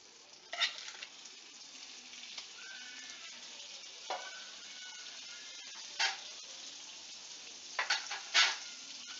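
Butter heats in a pan for paneer butter masala gravy, hissing in a steady, moderate sizzle with a few brief louder crackles and stirring scrapes.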